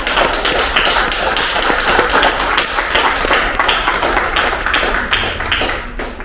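Audience at a film festival evening breaks into sustained applause after a young performer's piece, steady dense clapping filling the room for several seconds without talk.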